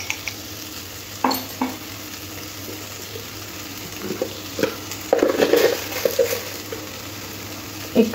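Papaya and potato vegetable curry with coriander powder and a splash of water is stir-fried in a pan: a low sizzle under irregular bursts of spatula scraping and clatter, growing busier toward the end, with no talking.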